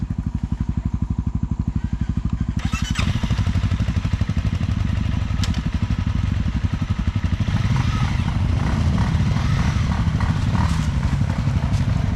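A motorcycle engine idles with a rapid chugging pulse, then, shifted into first gear, catches and revs louder and rougher with clattering mechanical noise, close by.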